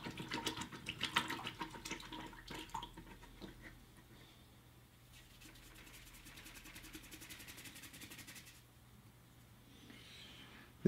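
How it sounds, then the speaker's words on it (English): A paintbrush is rinsed and swished around in a water bucket. Sloshing, splashy water bursts are strongest in the first few seconds, then fade into quieter dripping and stirring close by. "I just put it in the water bucket, swish it around a little bit, get it cleanish."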